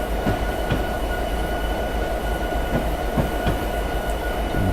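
A diesel locomotive in Train Simulator 2017 rolls along at about 25 mph, giving a continuous rail rumble with steady clickety-clack wheel beats and a faint high whine, no talking.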